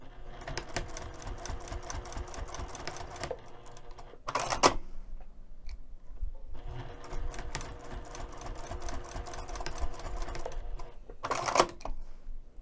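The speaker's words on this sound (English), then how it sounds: "we're going to stitch this down 1/8 of an inch away from the short end of the strap" A sewing machine stitches a bag strap in two bursts of rapid, even mechanical chatter, separated by short pauses and sharp clicks of handling. No one speaks.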